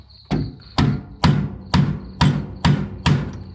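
Hammer blows knocking out a blade during a blade change, seven heavy ringing strikes at an even pace, each with a short metallic decay, close and loud with no talk.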